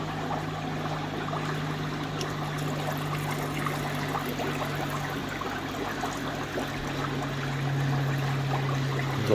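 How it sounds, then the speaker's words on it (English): Drained koi pond water, mixed with sinking food, is poured through a strainer, giving a continuous close trickle and splash that runs steadily throughout and swells slightly near the end, with a low hum underneath. "I think I'll just pour it through that."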